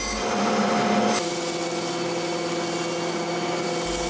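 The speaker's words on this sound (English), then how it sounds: "further breaking them down into top and rail components on the bandsaw" A bandsaw cuts rough black ash boards into tabletop and rail pieces, giving a steady motor whine with a louder rasp of the blade in wood for the first second before it settles into a constant hum.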